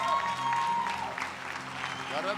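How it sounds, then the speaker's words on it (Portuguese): Church conference crowd applauding as a guest is called up, faint continuous applause in a large hall with a sustained tone and voices over it. "eu queria chamar o Carlão, queria que vocês recebessem ele com palmas."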